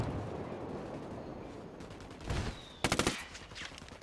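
Gunfire in Ghost Recon Wildlands crackles over a noisy outdoor backdrop, first a muffled burst, then a rapid, louder volley of several shots in quick succession near the end.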